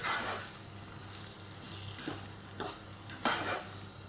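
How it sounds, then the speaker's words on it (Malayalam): Onions sizzle softly in a pan as they fry for a Thalassery-style chicken dum biryani, with a faint steady crackle broken by a few sharp clinks of a utensil against the pan. "ഈ സവാള നന്നായിട്ടൊന്ന് ഫ്രൈ ആയി വരണം."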